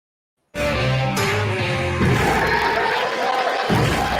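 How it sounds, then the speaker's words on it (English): A studio crowd breaks into loud cheering and applause for a guest on a car talk show, starting abruptly and sustaining as a dense roar. "Give a round of applause to Arvind, our second guest now"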